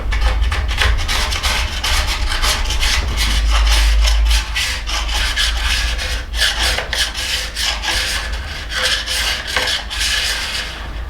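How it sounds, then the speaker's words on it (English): A scraper drawn repeatedly along a ski base to remove excess wax, a close, loud rasping scrape in quick uneven strokes with brief pauses between passes, no talking. "I'm now going to go and start removing the excess wax from the ski."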